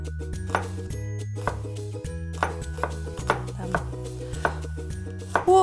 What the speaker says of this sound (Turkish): Soğanımızı şu şekilde doğruyoruz.